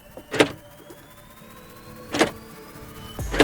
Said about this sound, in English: let's listen to the G-Wagon locking mechanism